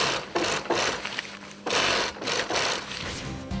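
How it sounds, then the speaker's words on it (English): Sewing machine stitching hot air balloon fabric, running in bursts of rapid mechanical whirring and clatter with short pauses between runs. "Did you like the sound of the sewing machine when it sewed all the material together?"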